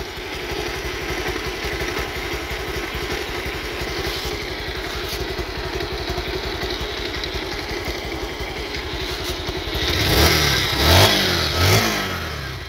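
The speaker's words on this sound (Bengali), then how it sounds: "একদম নতুনের মতোই আছে এক্সস্ট নোট" Steady, throbbing idle from a used Bajaj Pulsar motorcycle's exhaust, close and even, followed near the end by a few sharp revs that swell louder before easing back.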